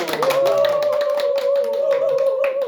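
An audience claps together after a blind balloon-color guessing magic trick, a close, lively burst of many hands applauding continuously with some faint voices mixed in.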